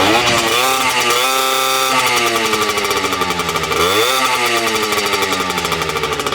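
A two-stroke Zündapp ZXM 50cc motorcycle engine runs steadily and loudly up close, its buzzy, raspy drone rising in pitch briefly near the end.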